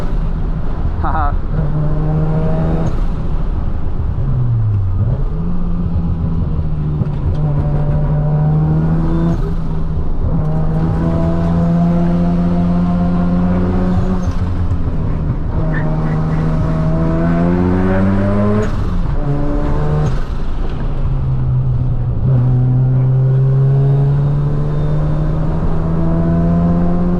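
Mazda RX7 FD rotary engine pulling hard on a mountain touge road, loud in-car drone rising through each gear then dropping at shifts, continuous and close, with a driver speaking over it.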